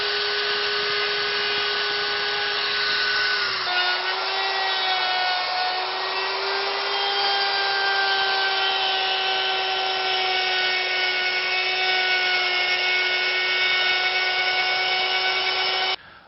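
A router trims the edge of a laminate countertop, giving a loud, steady high-pitched motor whine that runs for about sixteen seconds with a brief pitch dip near the start and no talking.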